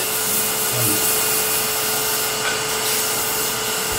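A steady, loud whirring drone with a gritty hiss as 220-grit sandpaper is held against a Christmas ornament spinning on a wood lathe, continuous and close with no speech.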